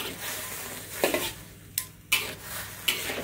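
Vegetables for sayur asam are stirred in a pot, giving a few soft scraping and clinking strokes of a utensil against metal over a faint sizzle, quiet and close.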